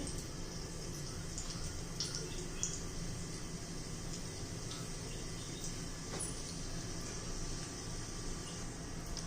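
Urad dal and chana dal tempering in hot oil for a tomato chutney, with a faint, steady crackle and fine sizzling hiss running evenly throughout, dotted with tiny pops.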